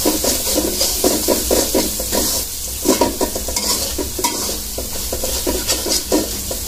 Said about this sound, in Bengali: মশলাটা ভালোভাবে কষায় নেবো আর একটু।